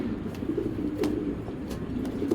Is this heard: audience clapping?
no